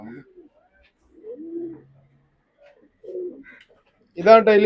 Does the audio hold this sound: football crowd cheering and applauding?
no